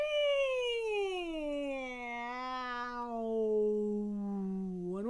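Group singers imitate a cat with a long vocal meow, sliding smoothly from high to low pitch over about five seconds, steady and close, with no other talk.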